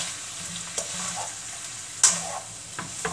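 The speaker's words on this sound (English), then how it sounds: "Alright, we're going to stir this up." Seasoned chicken and broccoli sizzle and fry in a pan while being stirred, with a steady close sizzle and a few scraping knocks of the utensil against the pan, including one sharper clank.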